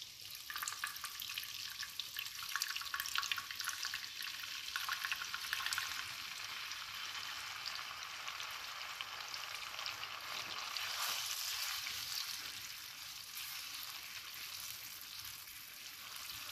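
Lemon juice sizzles steadily in a pan sauce over a raised flame for tagliolini al limone, a continuous bright frying hiss with a brief dip near the end, no voices.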